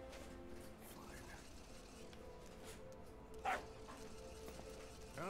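A dog named D.D. in a video game gives a short, faint bark amid game background sound and quiet talk, with one brief sharper yelp standing out partway through.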